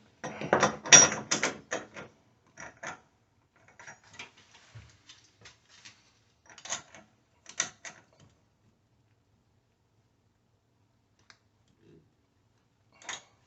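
A socket wrench ratchets on a shower diverter valve during a plumbing installation: quick bursts of small metallic clicks, densest at the start, then sparse clusters separated by near silence.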